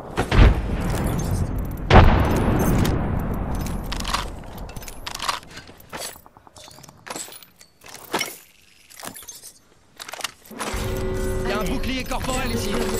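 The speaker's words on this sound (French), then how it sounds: "Grenade frag lancée." Frag grenade blasts in the video game Apex Legends, with two loud booming explosions near the start followed by gunfire, clatter and other game effects, and occasional speech mixed in.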